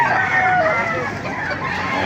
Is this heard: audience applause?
no